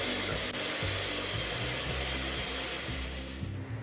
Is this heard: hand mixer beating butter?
yes